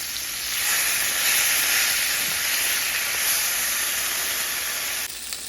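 Beef sears in a hot pan for a beef stew, giving a steady, bright hiss of sizzling fat that stays even and close throughout and dips slightly at the very end.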